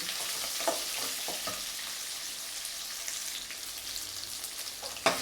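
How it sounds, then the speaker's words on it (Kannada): Onions and dried red chillies frying in a pan for an egg chicken curry, a soft continuous sizzle with a few stirring scrapes and a sharper clink near the end, no talk. "ಈರುಳ್ಳಿ ಎಲ್ಲ ಫ್ರೈ ಆಗಿದೆ. ಸೊ ಒಣಮೆಣಸಿನ್ಕಾಯಿ ಕೂಡ ಫ್ರೈ ಆಗಿದೆ."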